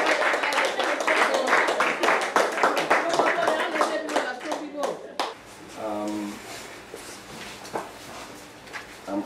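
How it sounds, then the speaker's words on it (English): Audience hand clapping at a civil society consultation meeting in Liberia, dense rhythmic claps filling the first half and then fading out, followed by a voice speaking. "the normal hand clap"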